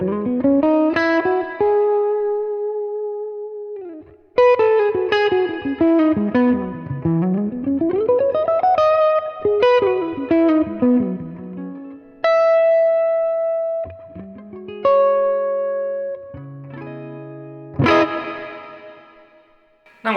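Electric guitar with Eastman humbuckers played through a Boss Nextone Stage solid-state amp with reverb: melodic phrases, sliding notes and ringing chords that fade into a lingering wash, with short pauses between passages.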